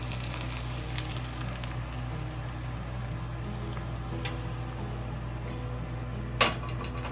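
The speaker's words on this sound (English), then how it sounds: "we turn off the stove and add the hot oil, careful, to the ginger and garlic" Hot oil poured over ginger and garlic off the heat, a continuous close crackling sizzle under a low steady hum, with a sharp clink near the end.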